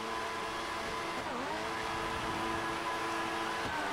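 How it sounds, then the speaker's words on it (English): A race car engine in the F1 2014 video game drones steadily and loudly throughout, with rising and dipping pitch as the car shifts gears, and no talk over it. "You gotta listen to the engine."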